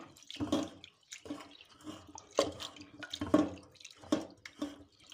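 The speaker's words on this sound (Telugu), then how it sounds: "పప్పు వేగిన తర్వాత ఇలా వాటర్లో కడగాలండి ఇలా కడుగుతున్నాను వాటర్లో" Water sloshes and splashes in a bowl in repeated short bursts as fried lentils are rinsed by hand, fairly close.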